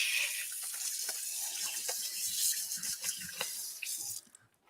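Water runs steadily from a kitchen tap into a sink during cooking, a continuous splashing hiss with small clatters, nearby, that stops abruptly near the end.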